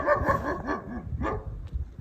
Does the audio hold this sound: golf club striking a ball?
no